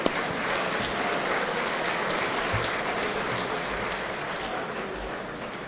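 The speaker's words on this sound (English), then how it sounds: "we'll give them a round of applause in their absence" A crowd at a basketball awards banquet claps steadily for several seconds, a dense even patter of applause that holds its level before easing slightly at the end.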